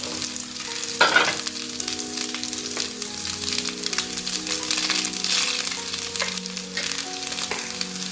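Cooked rice tipped into a hot sizzling pan and stirred for carrot rice, with a steady frying hiss, a sharp scrape as it goes in near the start, and continuous stirring clatter throughout.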